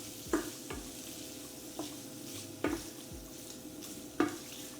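Bacon fries in a pan for a chicken, potato and spinach casserole, giving a steady close sizzle while a utensil stirs and scrapes against the pan in several distinct strokes.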